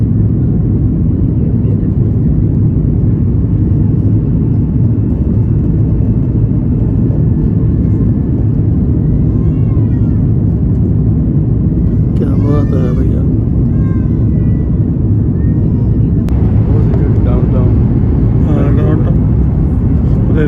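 Inside an airplane cabin during descent for landing, a loud, steady engine drone rumbles without a break while people talk over it.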